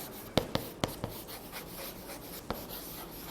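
Chalk writing on a blackboard during an English lesson: several sharp taps and short strokes near the start, then a lone tap later, close and fairly quiet over a steady room hiss.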